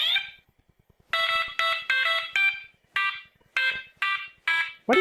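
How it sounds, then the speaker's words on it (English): A hacked school fire alarm in the Butterfly Soup game blares the Super Mario theme as a string of loud, buzzy electronic notes in bouncy rhythm, each tone harsh and beeping, with faint ticking between and no talk. "Someone hacked the fire alarms to play the Super Mario theme."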